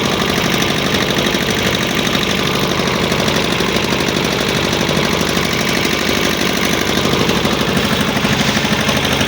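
A boat engine running on the Buriganga river near Sadarghat gives a loud, steady, close drone with a rough, knocking low pulse, unbroken for the whole stretch.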